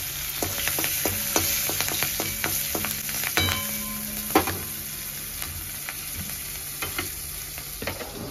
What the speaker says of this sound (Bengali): এবার ওই তেলেই আমি ফোড়নের জন্য শুকনো লঙ্কা আর কালো জিরে দিয়ে দেবো